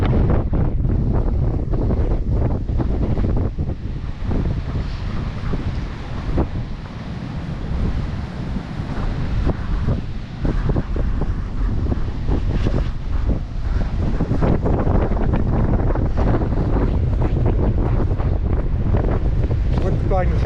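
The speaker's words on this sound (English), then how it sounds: "Wind's blowing the sand in my face at the moment" Steady, roaring wind gusts across an open beach and dune field at Foxton Beach, blowing sand about, loud and continuous close to the microphone with surf-like rushing throughout.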